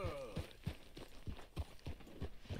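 Horse hooves clip-clop at a steady walking rhythm in Red Dead Redemption 2, about eight even, fairly soft thuds in a row, heard over a low background and faint music.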